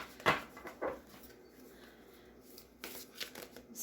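Sacred oracle cards are shuffled by hand in quiet, soft riffling bursts with brief pauses between them, close and faint, with no talking.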